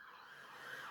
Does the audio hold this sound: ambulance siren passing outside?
yes